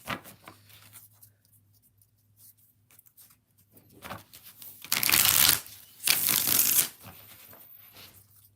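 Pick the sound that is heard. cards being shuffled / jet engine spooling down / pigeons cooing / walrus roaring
cards being shuffled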